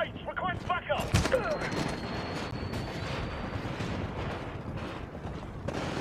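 Gunfire in the Titanfall beta, rapid bursts and mechanical clatter from an online match, loud and constant for several seconds, with a voice talking over it.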